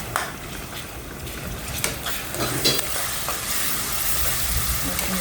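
Garlic paste sizzles and fries with browned onions in a pan while it is stirred, giving a steady close crackle broken by light scraping strokes.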